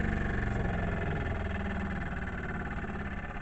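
A Jenson steam engine runs nearby with a smooth, continuous chugging rumble that holds an even level throughout, with no one talking.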